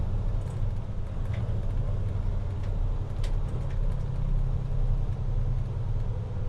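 A semi truck's diesel engine drones low and steady at around idle speed as it downshifts through the gears, with a continuous close rumble and slight shifts in tone.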